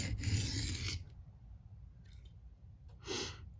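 A Benchmade knife is drawn across diamond sharpening plates with light pressure, giving a loud rasping stroke, a quiet pause, then a brief second scrape.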